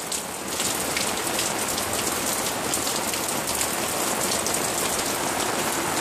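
Heavy rain pours steadily outdoors beside a mobile home, a dense, continuous hiss of drops striking surfaces at close range, loud and unbroken with no voices.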